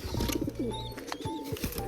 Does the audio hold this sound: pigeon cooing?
yes